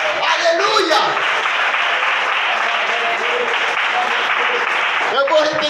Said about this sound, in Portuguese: a igreja dá um brado de glória a Deus e bate as palmas